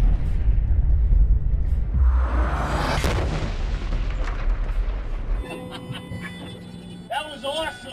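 A tank cannon fires a training sabot round, a heavy boom with a long rolling blast that decays over several seconds before a voice exclaims.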